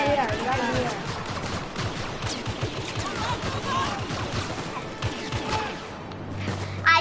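Rapid blaster and gun fire in Star Wars Battlefront, dense bursts of shots rattling continuously through a loud battle mix, with voices talking intermittently over it.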